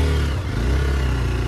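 A motorbike engine drones loud and steady while riding along a rough, potholed road, with a constant low rumble and some rattling clatter.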